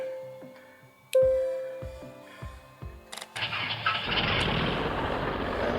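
A plane's engine starting in the flight simulator X-Plane: a series of mechanical clicks and a tonal whine, then a sudden rise into a steady, broadband engine roar that holds to the end.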